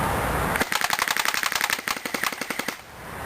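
A Crosman R76 AK-74U airsoft gun fires a rapid burst of BBs, about twenty sharp, evenly spaced cracks in roughly two seconds, loud and close, then stops.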